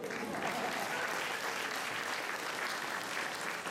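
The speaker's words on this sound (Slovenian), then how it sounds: "Zdaj, za tretji aplavz je pa za vse one," Many hands clap together in sustained audience applause at a 2016 concert of former music students, a thick continuous patter that stays level throughout with no talk over it.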